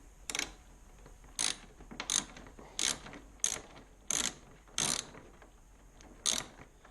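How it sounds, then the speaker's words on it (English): Torx T25 screws being backed out on a BMW R1250RT motorcycle, heard as about eight short ratcheting bursts of metallic clicking spaced at a steady rhythm, close and fairly loud, with no talk. "Let's get these two T25s out."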